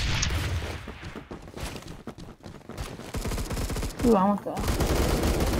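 Rapid automatic gunfire in the Roblox shooter Phantom Forces, loud bursts of shots and booms running continuously while a player talks over them.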